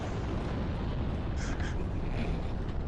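A fire dragon in Dark Souls Remastered breathes fire in a loud, steady, roaring rush that holds without a break, with a brief brighter flare partway through.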